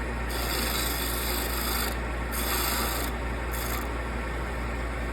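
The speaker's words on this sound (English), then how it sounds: "A little more of a scrape." A wood-turning tool scrapes a small bud vase spinning on a lathe, a loud continuous rasping hiss over the steady motor hum, broken by brief pauses as the tool lifts off and returns.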